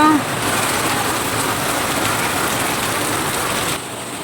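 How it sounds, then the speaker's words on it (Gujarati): A heavy downpour hisses steadily without a break, a wide wash of rain noise that eases slightly near the end. "જોધમાર વરસાદ ચાલુ છે"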